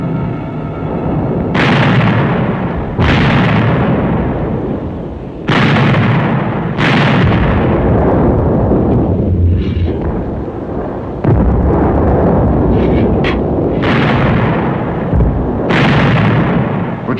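Heavy German artillery fire and explosions from the Normandy fighting in World War II: a series of loud, sharp booming blasts about every two seconds, each decaying into a dense rumble, with no speech.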